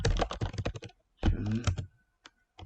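Typing on a computer keyboard while writing a CV in MS Word: close, rapid key clatter in quick bursts, with a pause and a few lone taps near the end.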